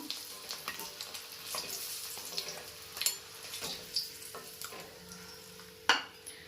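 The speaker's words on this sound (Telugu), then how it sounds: "ఎగ్స్ ఆయిల్లో వేపేసుకుంటానండి" Eggs frying in oil, a soft continuous sizzle broken by intermittent spatula scrapes and a few sharper pan clinks, fairly quiet and close.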